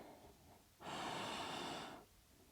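A single long, steady exhale through the nose during a yoga hip-mobility session, a broad breathy rush lasting about a second, close and loud against a quiet room.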